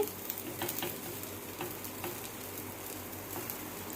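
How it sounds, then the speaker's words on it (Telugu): Sweet corn tikki shallow frying in a little oil on a pan, a steady, soft close sizzle with faint crackles throughout and no talk. "కొంచెం క్రిస్పీగా ఫ్రై అవ్వడానికి. ఇలా షాలో ఫ్రై టేస్ట్గా ఉంటుంది."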